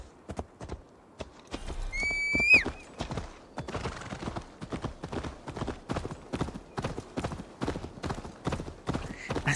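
Horse in Assassin's Creed Valhalla, hooves clip-clopping in a steady, quick rhythm throughout, with a loud, high whinny early on before the galloping continues alone.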